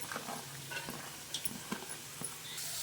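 Beans and carrots stir-frying in oil with fresh mint and coriander, a soft steady sizzle broken by several short scraping stirs and clinks of the spoon against the pan, close and fairly quiet.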